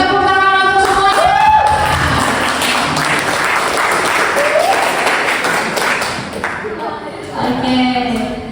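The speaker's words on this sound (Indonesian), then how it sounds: "Tepuk tangan untuk semuanya." A classroom group claps for the group presentations, a dense burst of applause lasting several seconds and then tapering off, with a teacher's voice heard before and after it.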